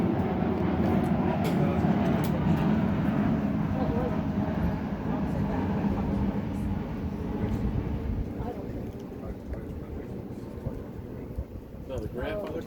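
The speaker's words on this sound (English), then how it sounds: "Wait for the plane to go over." A plane passes overhead during an indoor family gathering, its broad low rumble strongest early and slowly fading, with background voices and room noise throughout.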